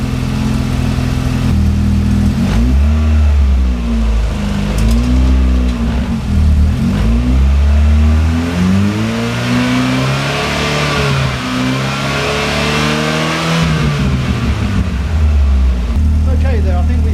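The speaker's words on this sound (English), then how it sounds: "I'm going to rev the engine up." A 4-cylinder car engine revs up steadily and falls back, its pitch rising and sinking in long sweeps; it runs loud and close, with no talk over it.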